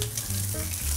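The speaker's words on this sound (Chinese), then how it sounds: "稍微煎一下，边缘也把它让肉汁锁住" Beef steak fries in a hot pan alongside garlic, a loud, steady sizzle running continuously through the whole second with no talk over it.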